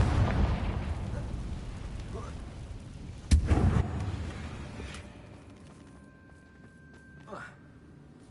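Confringo blasting spell cast in the video game Hogwarts Legacy, a sharp explosive burst midway through rumbling battle noise, followed by fainter crackles and a later smaller pop, with a voice speaking.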